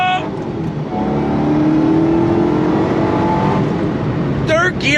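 A 2005 Ford GT supercar accelerates hard on throttle, its loud, close engine roar rising steadily in pitch for several seconds before easing off, with a brief burst of voice near the end.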